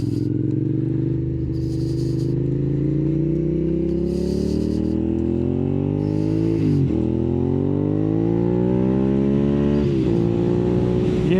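A fourth-generation Suzuki SV650 motorcycle engine with an aftermarket exhaust idles loudly and close, its exhaust note rising in pitch as it revs several times, then dropping back.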